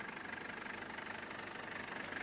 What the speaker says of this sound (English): Here you can see the engine running.